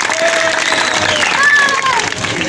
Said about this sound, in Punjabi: ਆ ਦੇਖੋ ਇੱਕ ਵਾਰ ਜ਼ੋਰਦਾਰ ਤਾੜੀ ਅਮਰ ਸਿੰਘ ਚਮਕੀਲਾ ਜੀ ਲਈ